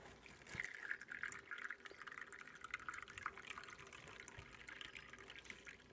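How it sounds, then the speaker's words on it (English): Water steadily trickling and dripping through a coffee filter set in a funnel while making frankincense water, a faint continuous patter with no talk. "I've just got a funnel and a coffee filter, and so now I'm just going to filter it through."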